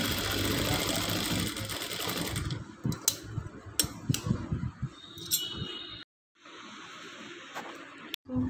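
A sewing machine stitches the neck of a blouse in quick, steady runs for the first few seconds, then lighter ticks and short bursts follow with brief pauses and a sudden cut to silence near the end.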